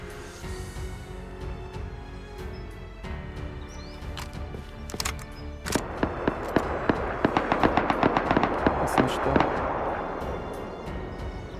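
Rapid bursts of gunfire in Rust, scattered shots at first then a fast rhythmic volley, loud and close over a constant background rumble.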